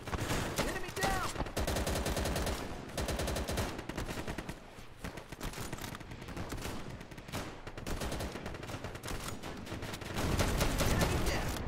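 Rapid gunfire in the video game Easy Red 2 during a Battle of Kwajalein campaign mission, with dense bursts of automatic and rifle shots going on continuously, some close and sharp, others layered behind.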